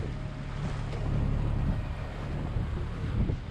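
Rough offshore sea surges against a steady roar of wind near 40 knots buffeting the microphone, a constant heavy rumble with no voices, heard at night while sailing.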